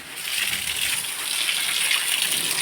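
Water gushes and splashes as it is poured out, a steady close rushing sound with no voices.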